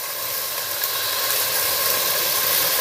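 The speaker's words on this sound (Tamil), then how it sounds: "பார்த்து தெரிக்க போது நல்லா வதங்கட்டோங்க வெங்காயம்" Onions sautéing in a pan, a steady broadband hiss and sizzle running evenly throughout without breaks or talk.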